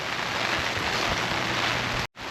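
Steady dense patter of rain drumming on a transparent umbrella, close and continuous across the whole stretch, then cut off abruptly near the end before resuming.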